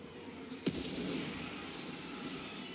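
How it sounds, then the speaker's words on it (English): Artillery fires in a Total War: Warhammer 3 battle, a single sharp boom standing out over a continuous dull wash of distant battlefield rumble. "So the artillery starts coming out."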